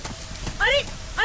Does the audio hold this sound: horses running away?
yes